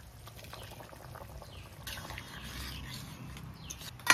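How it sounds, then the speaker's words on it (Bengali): Rui fish curry (jhol) boiling in a pot on the stove, a soft, steady bubbling and simmering that stays low and continuous throughout, with a slight rise toward the end. "জলটা দেওয়ার পরে আমি ঝোলটা ফুটিয়ে নিয়েছি 3-4 মিনিট"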